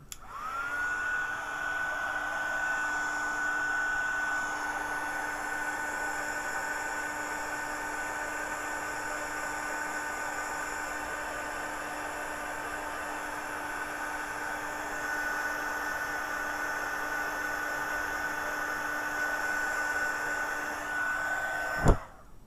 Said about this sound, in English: in with the heat gun again quickly